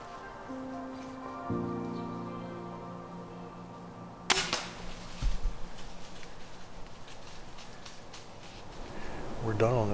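PSE crossbow fired at a doe while hunting outdoors, a sudden sharp snap midway through a quiet woodland background, followed by rustling and a thud.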